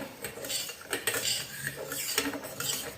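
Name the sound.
stirring sugar into a dish with a spoon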